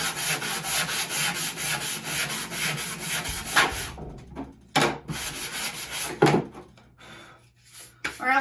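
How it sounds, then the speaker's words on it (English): Sandpaper rubs back and forth over a painted wooden board, a steady rhythmic scratching at close range that breaks into separate strokes with pauses. Someone speaks in between. "So make sure that you sand that."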